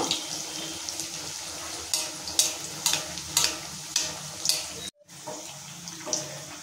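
Banana flower fritters frying in a pan over a medium flame, a steady hiss of oil broken by sharp crackles and spatters at irregular intervals, close by with no voices, with a brief dropout near the end.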